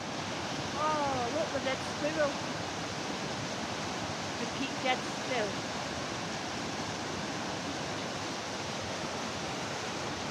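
The waterfall at Triberg, Germany, gives a soft, steady broadband rush heard from some distance, with brief voices talking near the start.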